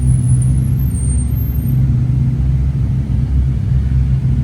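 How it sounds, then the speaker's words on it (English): A Bugatti Veyron hypercar rolls past in a convoy at Goodwood, giving a steady, loud, deep engine rumble that holds even for several seconds, with no voices. "We have a Veyron."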